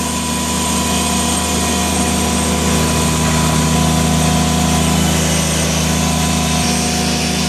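A 2010 Bobcat S70 skid steer loader engine running at a steady, loud, droning idle with constant mechanical hum and no change in pitch, heard alone without talk.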